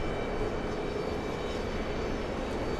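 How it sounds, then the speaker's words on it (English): A C-17 military transport aircraft on final approach gives off a steady, broad jet roar with a faint high whine, holding at an even level throughout. "C-17 on final approach."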